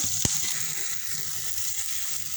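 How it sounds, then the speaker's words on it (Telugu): Tomato and onion frying in a pan for chutney, a steady soft sizzle with one sharp clack of a utensil near the start. "ఇక్కడ టమాటా ఆనియన్ కూడా ఫ్రై చేసి పచ్చడి అయితే ప్రిపేర్ చేస్తున్నాను"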